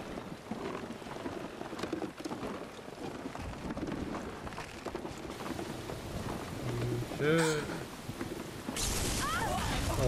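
Thunderstorm with lightning in Final Fantasy 7 Rebirth, steady rain hiss with rumbling thunder and sharp crackling bursts near the end, alongside game sound effects.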